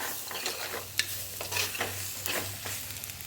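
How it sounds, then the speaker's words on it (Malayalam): Boiled jackfruit seeds stirred in a frying pan, with a spatula scraping and clattering in a few irregular strokes over a soft steady sizzle, close and alone. "നമുക്ക് ചക്കക്കുരു വേവിച്ച് വെച്ചതാണ്, അത് നമുക്ക് അതിൽ ഇട്ട് കൊടുക്കാം."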